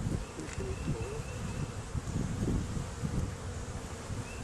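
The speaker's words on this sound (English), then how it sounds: "You don't have to worry about the bees because these hive is queenless." Honeybees buzz in a steady, dense drone around an open queenless hive while frames are handled, the swarm close and continuous throughout with no talking.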